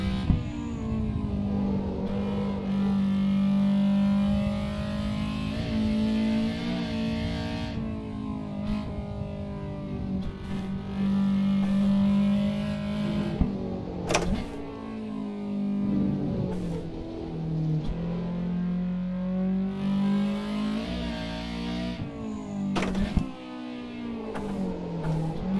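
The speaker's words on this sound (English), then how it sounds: "You hear how it suddenly got louder? It does do VTEC properly." A Honda VTEC engine drones hard and continuously during Daytona road practice. Its pitch shifts as the revs climb, and the note turns suddenly louder and harsher as the VTEC engages. There is no talk over it.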